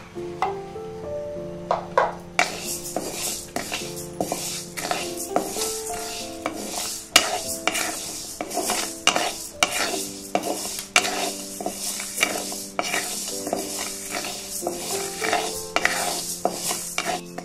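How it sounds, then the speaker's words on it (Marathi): Urad dal and moong dal are dry-roasted in a pan, a busy rattle of lentils and spoon scraping in quick bursts over a faint hiss. The sound is steady, close and without speech. "ह्या दोन्ही डाळी पण आपल्याला छान भाजून घ्यायच्या"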